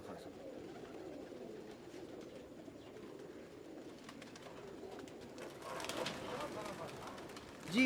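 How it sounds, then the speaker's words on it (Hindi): A Jansa breed pigeon coos softly and steadily at close range, with rustling and some background noise rising near the end. "आपको जानसा वाला कबूतर दिखा रहे हैं इस वक्त।"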